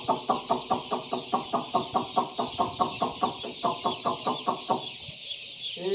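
Chickens cluck in a steady rhythmic series of close, loud calls at a poultry farm, with a continuous high-pitched background drone; the clucking stops near the end.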